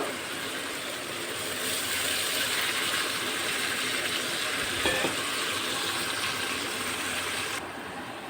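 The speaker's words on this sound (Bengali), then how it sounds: "একটু নাড়ায় চাড়াইয়ে এটাতে জল দিলাম" Water goes into a cooking pot and is stirred, making a loud, steady sizzling hiss throughout with a brief knock of the spoon partway through.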